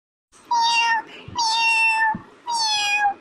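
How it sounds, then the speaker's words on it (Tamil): A domestic cat meows three times close by, each call long and drawn out with short gaps between, loud and plaintive with no talking over it. "எப்பா பாரு இந்த கரைஞ்சிக்கிட்டு தான் இருக்கு இந்த பூனை"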